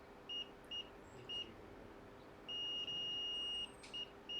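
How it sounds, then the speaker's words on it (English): Faint electronic beeps chirp a few times in short pulses during repair of a dead iPhone A1688 logic board with multiple shorts, then one long sustained tone, then more short beeps, over a quiet background hum. "It's just beep like this"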